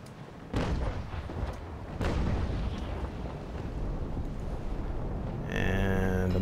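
Cannon broadside raking fire from sailing warships in Naval Action, a massed Trafalgar-style sea battle with forty ships: repeated loud booming shots rolling one into the next over a continuous rumble of distant gunfire, with tones sounding toward the end.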